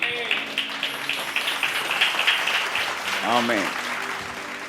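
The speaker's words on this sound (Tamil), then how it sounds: "கைத்தட்டுங்க." A church congregation claps hands during a prosperity sermon, steady applause under a preacher's voice, with someone briefly calling out partway through.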